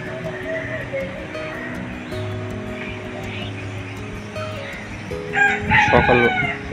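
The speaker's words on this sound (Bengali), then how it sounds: "সকাল ওরে মোরগ ডাকার আওয়াজ লাগছে" A rooster crows at dawn near a new flat, a loud strained call breaking out near the end over a steady hum of background noise.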